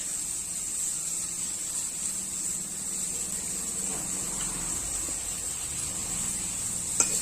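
Chili and turmeric powder frying in a pan for kadika curry, a soft, steady sizzle running throughout at low level, with a faint clink of a utensil near the end.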